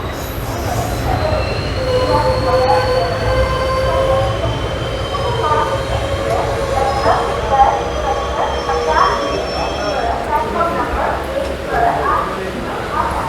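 The Tirupati–Chennai Express (16204) runs on rails near Chennai Central, with a steady, loud rolling rumble of wheels on track and intermittent metallic wheel squeals throughout.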